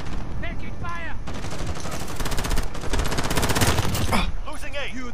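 Video game match gunfire, rapid automatic bursts crackling loudly and continuously, close, with in-game voice callouts and radio chatter over the shooting.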